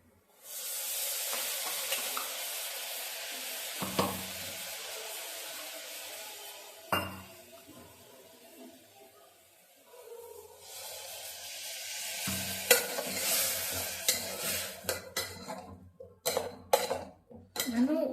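Ground masala for pulao hits a hot frying pan with a soft sizzle, followed by scraping and metallic clinks of a spoon stirring against the pan, close and irregular, growing busier with sharp taps toward the end.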